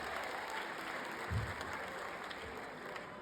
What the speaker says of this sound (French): Oh, on applaudit très bon pour vous-même.